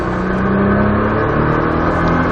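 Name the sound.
Nissan GTR accelerating at full throttle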